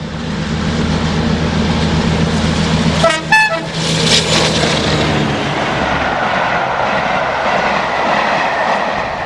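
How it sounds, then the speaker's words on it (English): A Deltic 22 British diesel locomotive roars past at speed toward County March Summit, its loud engine thrash building and fading, with a short horn blast sounding near the middle. "Deltic 22 blasts towards County March Summit while en route to Fort William."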